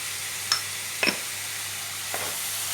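Pineapple pickle being stirred in a pan, with a soft steady sizzle and three distinct spoon scrapes against the pan, spaced about half a second to a second apart, close and fairly quiet.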